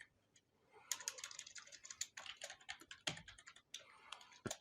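Someone types on a computer keyboard in quick, irregular bursts of soft clicks heard up close, with a brief pause near the end.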